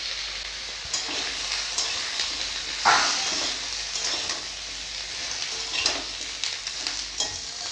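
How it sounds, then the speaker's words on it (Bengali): Vegetables, including stalks and eggplant, frying in a pan with a steady broadband sizzle and occasional stirring scrapes, close and moderately loud, no voices. "এটা ভালো মতন ভাজা হয়ে যাক"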